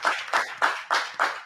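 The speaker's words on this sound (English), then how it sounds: "Clap it up." Five sharp, evenly spaced hand claps, close and fairly loud, each with a short ringing tail, in a slow steady rhythm.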